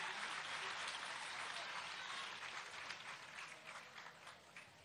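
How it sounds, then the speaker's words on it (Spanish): Crowd applause at a political rally in Venezuela, a sustained wash of many hands clapping, slightly distant and gradually thinning out. "Un aplauso constituyente de la República Bolivariana de Venezuela."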